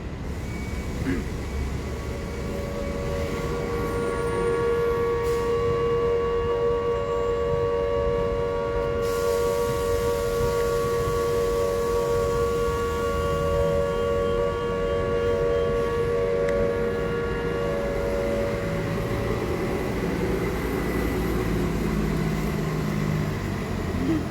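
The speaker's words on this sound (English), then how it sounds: "the air raid all clear siren sounds" A loud, sustained air raid all-clear siren wails steadily for over twenty seconds at a Hiroshima observance in Burnside Park, Providence, Rhode Island, its held tone droning on with a slight shift partway through.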